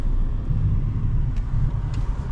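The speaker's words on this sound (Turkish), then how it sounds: "Arabayı şöyle çekelim." A car being moved in the snow during a Canadian winter, a low steady engine rumble close by with faint scraping, no talk.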